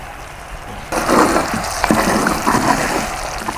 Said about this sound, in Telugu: ఇప్పుడు నెయ్యి వేయాలి.